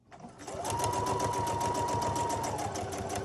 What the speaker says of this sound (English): just going to go ahead and backstitch that part a couple times